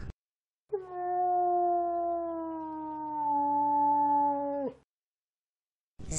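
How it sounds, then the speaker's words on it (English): A single drawn-out wolf howl, steady and tonal with a slight waver, rising in and holding for about four seconds before cutting off, heard alone against silence. "Wolf."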